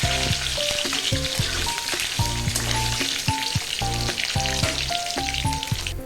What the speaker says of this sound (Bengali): তো যেমন রান্না করে তেমনই ডিমগুলো আগে এই যে ভেজে নিচ্ছি।